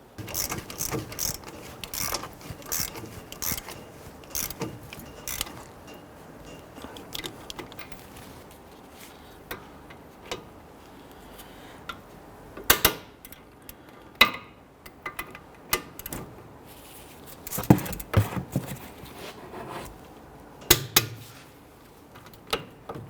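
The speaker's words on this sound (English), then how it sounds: "let's go ahead and rotate the wheel, snug down, and torque the two front bolts." A wrench torques the front wheel hub bolts on a 2011-2017 Nissan Quest during a wheel bearing and hub replacement, giving off irregular close ratcheting clicks and metallic knocks over a quiet garage background.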